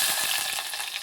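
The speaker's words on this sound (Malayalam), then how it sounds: "കടുക് പൊട്ടുന്നുണ്ട്" Mustard seeds crackle and sizzle in hot oil in a pan, a steady dense frying hiss with small popping bursts, fairly quiet and close, no talking.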